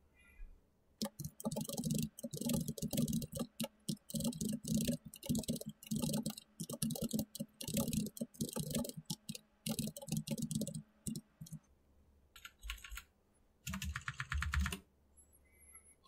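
Computer keyboard typing while writing Python code, a quiet, close, rapid patter of key clicks in bursts with short pauses, and a few scattered clicks near the end.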